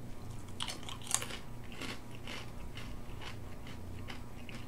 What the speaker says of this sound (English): Crunchy going in, but as you chew them, they soften up.